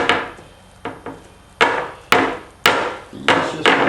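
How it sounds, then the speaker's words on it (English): A hammer beats a metal wireframe holiday decoration flat against the floor, giving about eight sharp, ringing whacks at an uneven pace, each followed by a brief decaying clatter, close and loud with no talking. "The easiest way is to put it on the floor and beat on it with a hammer."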